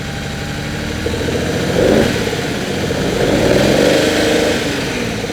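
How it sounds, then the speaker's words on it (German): A 1967 Lamborghini 400 GT with its V12 engine running close by, a loud steady idle with a gentle swell in revs around the middle, smooth and continuous throughout. "So läuft eine 12-Zylinder-Maschine."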